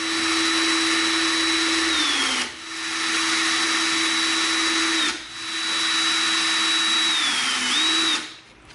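Power drill boring into wood for a dowel hole, a steady high whine running in three bursts with brief pauses and a pitch dip as the bit slows near the end of each pass.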